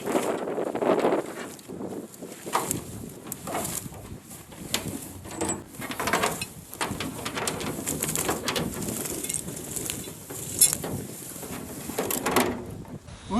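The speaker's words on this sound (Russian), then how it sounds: "Холодный ветер-то не слабый." Cold, strong wind gusts across a lake beside a boat, buffeting the microphone in steady roaring waves, with faint water and knocking sounds and occasional bird calls.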